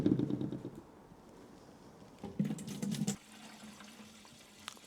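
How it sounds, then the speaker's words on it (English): Fuel pours into a container in brief gurgling bursts of splashing liquid, close and fairly quiet, with pauses between pours. "We are going to start pouring the fuel in"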